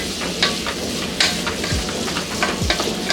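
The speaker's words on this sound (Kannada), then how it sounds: "ಇದನ್ನು ಕೂಡ ಫುಲ್ ಎಣ್ಣೆನಲ್ಲೇ ಫ್ರೈ ಮಾಡ್ಕೋಬೇಕು" Garlic and green chillies fry in plenty of oil for ridge gourd chutney, producing a dense, steady sizzle with scattered crackles and a few soft pops, close and fairly loud.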